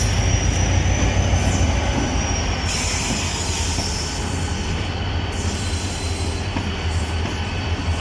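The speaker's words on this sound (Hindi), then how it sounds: "अब ये भी निकल पड़ी है 152 डाउन शाह लतीफ़ एक्सप्रेस" The 152 Down Shah Latif Express pulls out of Jhimpir railway station, a steady loud rumble of rolling wagons with squealing wheels and faint clatter throughout, no voices.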